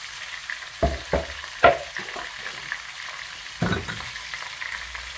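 Chopped onion fries in a pot under a steady background sizzle, broken by a few close clatters and stirring knocks, with no speech.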